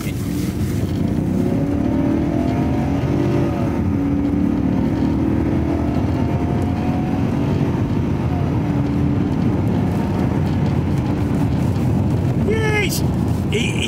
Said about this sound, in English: the initial acceleration isn't sort of mind-blowing, but it seems to keep accelerating at the same rate once it goes up through gears